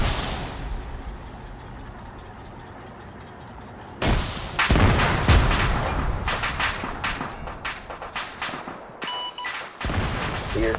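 A sudden loud explosion bursts in after a quiet stretch of low ambient rumble in Arma 3, set in a WW2 combat scenario where an anti-tank rocket strikes a tank, followed by ongoing crackling gunfire and battle noise.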